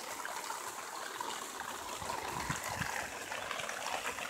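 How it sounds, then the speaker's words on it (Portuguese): Steady rain pours down on a plot where a country house is being built, a dense, continuous hiss and patter with no voices over it. "Graças a Deus, começou a chover agora."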